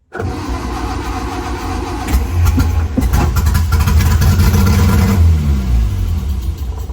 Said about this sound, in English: Then I'll pull the starter cable.